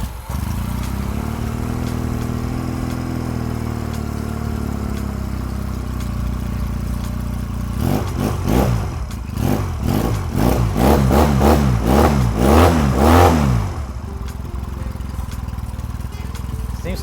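A cold 1986 Honda Rebel 250 CMX, running with a little choke after a starter clutch replacement, idles steadily, then gives a series of sharp, loud throttle blips that rise and fall in quick succession before settling back to idle.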